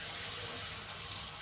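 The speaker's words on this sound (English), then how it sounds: "turn the tap on" A water tap running steadily during a toilet flexi pipe and isolation valve repair, a constant close hiss of flowing water with no pauses.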